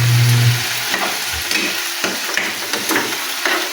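Food frying in a pan is stirred by hand during a home cooking lesson, with a steady sizzle beneath repeated scraping and clinking strokes of the utensil, close and fairly loud, with no voices.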